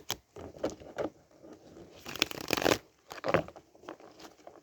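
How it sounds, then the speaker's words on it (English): Quiet riffling and soft slapping of a tarot deck being shuffled outdoors, coming in short irregular bursts with a denser flurry in the middle, close and alone without talk. "I think I just felt a raindrop, so I better stop shuffling."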